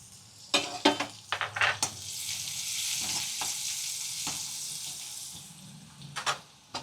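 Curry leaves, asafoetida and green garlic hit hot oil with sharp crackling bursts, settling into a continuous loud sizzle with a few more pops near the end, and no voices.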